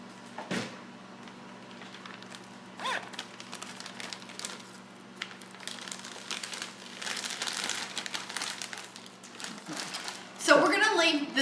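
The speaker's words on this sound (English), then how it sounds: "we're gonna leave the Ziploc bag unzipped, and we're gonna actually roll the pie crust that's in the ball" A plastic Ziploc bag crinkles and rustles steadily as pie crust dough is rolled inside it, close by and under intermittent talk.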